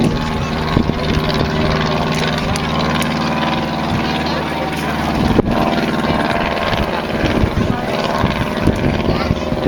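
A propeller aircraft at a historic fort display drones loudly overhead in a steady, throbbing engine tone that persists throughout, with a brief louder surge midway; speech is faintly present beneath it.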